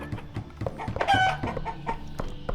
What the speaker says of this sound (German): Hey, wer gackert hier?